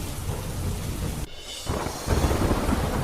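Heavy monsoon downpour with thunder in Porbandar: dense, steady roar of rain with a deep rumble, a brief dip in the wash, then the rain swelling louder and fuller again.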